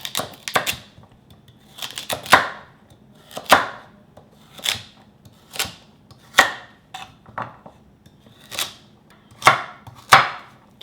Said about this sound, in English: So first, I'm going to cut this guy into small chunks.